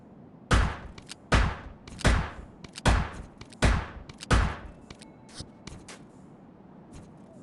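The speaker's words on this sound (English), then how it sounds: "So if you can see that pellet gun can shoot double." A pellet gun fires in the video game Yeeps, giving six loud, close bursts at roughly even spacing, each one a quick double crack, followed by softer scattered clicks and taps.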